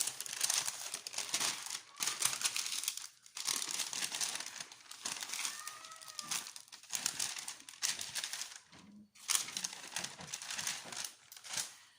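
Paper wrapping crinkles and crumples as craft-supply products are unwrapped, in close, irregular bursts of rustling with brief pauses between handfuls.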